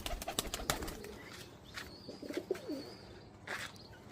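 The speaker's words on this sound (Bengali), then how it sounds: "এই হচ্ছে কবুতরটা, আমি ছেড়ে দিচ্ছি।" A high flyer pigeon is released outdoors, with bursts of wing flapping and soft bird calls, a cluster of sharp wingbeats early, then scattered flutters and a faint coo against steady background noise.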